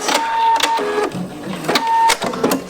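Sewing machine stitching in reverse through a garment lining, with close rapid mechanical chattering in short runs, several sharp clicks and brief pauses, loud and without talk.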